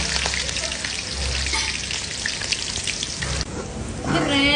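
Steady oil sizzle of large onions frying in a pan, with occasional stirring scrapes near the end; no talking.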